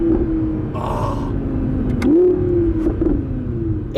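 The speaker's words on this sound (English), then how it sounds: "we're getting the pops and the bangs now" A 2018 Audi R8 RWS supercar with the roof off in Spain, its warming engine droning steadily with a sharp pop and a couple of crackling bangs on the overrun, close and loud.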